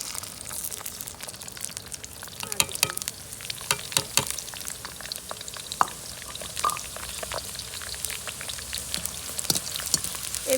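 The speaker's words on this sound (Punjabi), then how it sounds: "ਚੰਗੀ ਤਰ੍ਹਾਂ ਐਨ ਫਰਾਈ ਕਰ ਲੈਣੇ ਸਬਜ਼ੀਆਂ" Eggplant and okra frying together in a pan, a steady crackling sizzle with scattered pops and stirring scrapes throughout, fairly close and continuous, with no voices.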